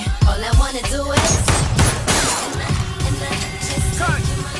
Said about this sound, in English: That shit sound like a real fucking gunshot.